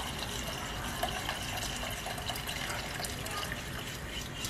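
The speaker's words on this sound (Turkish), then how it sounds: "Şöyle 3 su bardağına yakın sıcak su ekliyorum." Hot water poured into a pot of tarhana soup, a steady broadband rush of liquid that stays even and fairly close throughout, with no clear pauses or splashes standing out.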